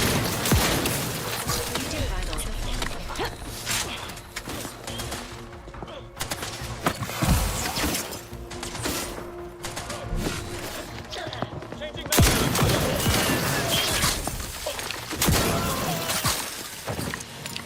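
Shotgun blasts in The Outer Worlds 2 boom repeatedly amid dense game combat noise, loud, with crashes and thuds, while a player talks throughout.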